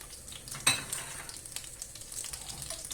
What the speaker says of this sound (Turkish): Hepsini birlikte sebzeleri pişireceğiz